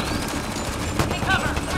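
Pistol fire in the sci-fi shooter Mass Effect Andromeda: a few sharp shots and energy whines in quick succession, set amid busy game combat sound at moderate level.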